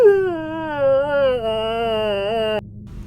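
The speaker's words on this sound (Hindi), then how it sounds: "उसने एक औरत के रोने की आवाज़ सुनी।" A woman's crying used as a sound effect in a horror story set in a deserted mountain forest, one drawn-out wavering wail that dips and quivers for over two seconds before cutting off abruptly into near silence.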